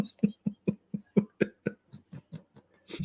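A man coughs in a rapid series of about a dozen short, close coughs, evenly spaced and fairly loud, ending with a rougher burst.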